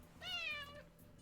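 A pet cat gives a single close, clear meow that rises and falls over about half a second, with quiet background hum and no talk.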